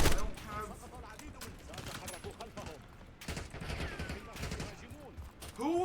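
Gunfire in the video game Black Ops 6, a dense stream of rapid shots and bursts with explosive cracks running throughout, loud and continuous, with a voice talking over part of it.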